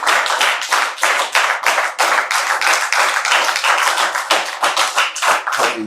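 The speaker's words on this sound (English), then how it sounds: "So give Brother David, Minister David, another big round of applause." A small gathering claps for a minister speaking on a crisis-themed talk, the sharp, loud, closely spaced claps forming a lively, uneven rhythm that carries on steadily without talking.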